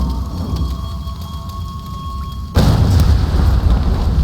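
A sudden heavy boom cuts in partway through, followed by a dense, rumbling roar as a barrel explodes in Tomb Raider (2013), loud and close.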